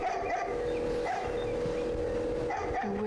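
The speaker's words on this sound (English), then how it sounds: "I wish that dog would stop barking." A dog barks in short intermittent yelps over a steady droning background hum in a video game scene, fairly faint and somewhat distant.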